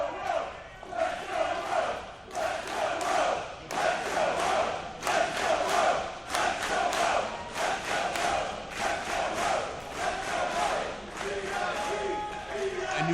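A wrestling crowd in Elizabeth, Pennsylvania chants and cheers for Ray Rowe, a steady roar of many voices rising and falling in rhythmic waves throughout, loud and continuous.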